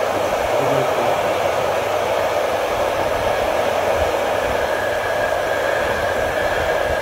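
A continuous, loud, steady blast of compressed air drying a freshly plated metal part, unbroken for several seconds.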